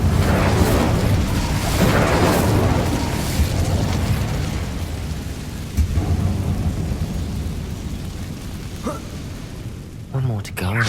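Incendio fire spell in Hogwarts Legacy, a heavy rumbling burst that rolls and decays over several seconds, followed by a few smaller crackles and pops near the end.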